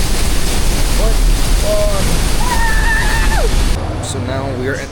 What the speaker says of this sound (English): So now we are at the second waterfall of the day.